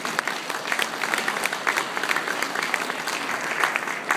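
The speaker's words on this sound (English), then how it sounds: "Let's give him a warm round of applause for Honorary Consul General" An audience at a New Year's reception gives a warm round of applause for an honorary consul general, a thick, sustained roar of many hands clapping together, loud and even throughout.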